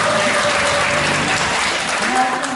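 Audience applause at a women's lecture contest, a loud, dense and continuous clapping from many hands close by, with faint speech beneath it.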